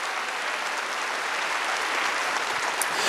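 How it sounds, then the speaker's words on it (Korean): Church congregation at a Wednesday worship service clapping together, a dense, even wash of applause filling the room for a few seconds, with no clear voices on top. "박수 좀 쳐봐요"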